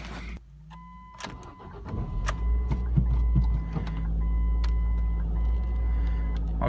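A Ford Focus engine cold starts with a brief crank that catches into a loud, steady idle, with beeping chimes sounding over the running engine close by.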